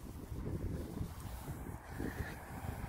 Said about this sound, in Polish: Wiatr dość intensywny, może szumieć.